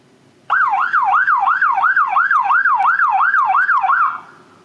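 Siren sound cue fired from theatre cue playback software: a loud wailing tone sweeping rapidly up and down in a steady, regular cycle for about three and a half seconds, then fading out quickly.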